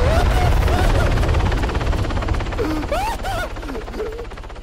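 Helicopter in the video game Arma 3, a loud, close rotor thump with a rapid chopping rhythm that fades slightly. Whistling tones and a voice come in over it.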